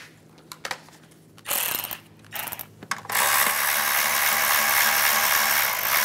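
A ratchet tightens bolts in the engine bay of a 2010–2016 Cadillac SRX during spark plug replacement: a few sparse clicks, then a rapid close clicking burst, ending in a loud, sustained mechanical whir.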